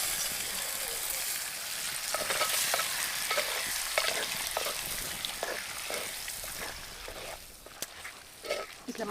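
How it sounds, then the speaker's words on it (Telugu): Washed onions sizzling in hot oil, a continuous crackling hiss with repeated scraping stirs, close by, fading slightly toward the end. "ఇప్పుడు సౌండ్ వస్తుంది నూనె"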